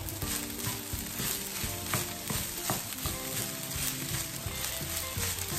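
Egg fried rice with salt sizzles steadily in a frying pan while it is stirred, with a continuous close hiss and soft, irregular scraping knocks throughout and no talking.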